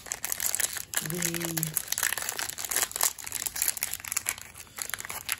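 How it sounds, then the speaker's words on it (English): Fat packs of 2021 Topps Series 1 trading cards being ripped open produce steady close crinkling and tearing of foil wrappers, continuous and fairly loud, with a brief spoken word in the middle. "Rip open these fat packs now."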